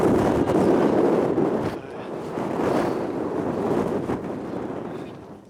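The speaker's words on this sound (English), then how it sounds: "And the wind is actually pretty windy as well." Strong wind on the misty summit of Mount Snowdon buffets the microphone in loud, rumbling gusts that swell, ease briefly and rise again.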